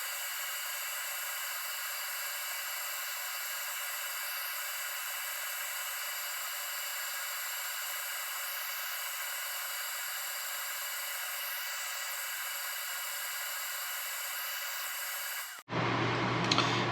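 A custom sanding device grinds a baseball bat ring down to size, a steady, loud, unbroken whir that runs for about fifteen seconds before cutting off abruptly.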